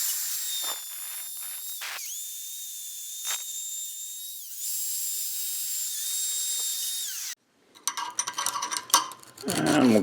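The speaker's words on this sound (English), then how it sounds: "I'm going to take a drill with a wire wheel on it." A high-pitched drill whines steadily with brief pauses, then gives way to harsh scraping and scrubbing bursts of a wire wheel on a dirty old tool surface.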